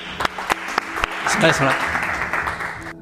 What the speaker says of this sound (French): un tonnerre d'applaudissements s'il vous plaît pour Jean Elchinger.